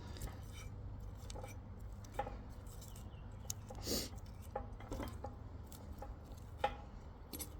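Salted butter being smashed together with garlic chive blossoms in a bowl, soft repeated taps and scrapes of a utensil with faint squishing, quiet and close, irregular rhythm with one sharper knock near the end.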